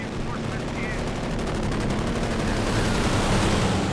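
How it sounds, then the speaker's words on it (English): Heavy machine guns rattle without pause in a late-game Company of Heroes 2 3v3 battle, a loud, dense wall of overlapping bursts mixed with other battle noise. "Contact! Heavy machine guns!"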